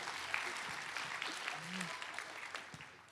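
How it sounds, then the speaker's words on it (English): A wedding reception crowd applauds in a sustained patter of clapping, with scattered cheers and voices rising over it. "can we please give one final round of applause for Mr. and Mrs. Benjamin and Vivian Chang."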